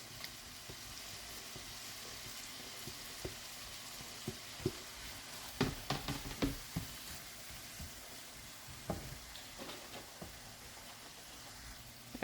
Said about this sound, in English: I'm adding the tomatoes.